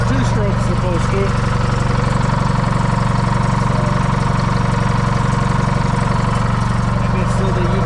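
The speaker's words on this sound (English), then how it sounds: "I can even show it even makes noise like a 2-stroke's supposed to." John Deere 440 with a 2-53 diesel engine running loud and close, with a steady rapid two-stroke rattle and drone that fills the whole clip.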